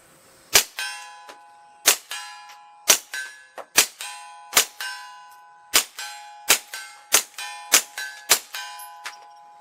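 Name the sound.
suppressed Taurus .22 shots hitting steel target at 50 yards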